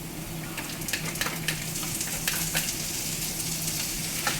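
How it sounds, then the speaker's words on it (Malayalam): Two green chilies drop into hot oil and fry with a dense, steady sizzle, crackling pops scattered throughout, close and fairly loud with no talking. "ഓക്കെ, ഇനി നമുക്ക് 2 മുളക് ഇട്ട് കൊടുക്കാം."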